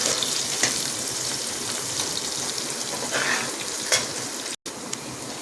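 Chopped onions and green chillies fry in hot oil for a Tamil fish curry, giving a dense, steady sizzle with a few brief stirring clatters and one short cut near the end, close and loud without talk.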